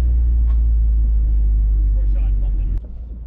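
Toyota Supra with a three-liter engine at Eagles Canyon Raceway in Texas, a loud close idling rumble that drops in level near the end, with a voice speaking over it.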